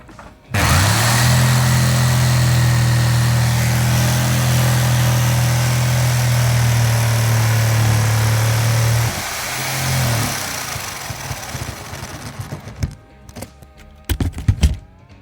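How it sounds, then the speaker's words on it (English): A jigsaw cuts a hole through a campervan floor, running loud and steady at close range for about nine seconds, then winding down, with clattering and knocks as the work finishes. "Time to break out the jigsaw."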